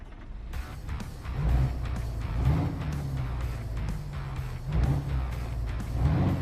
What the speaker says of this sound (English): The truck has a nice sound.